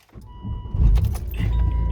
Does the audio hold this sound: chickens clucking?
no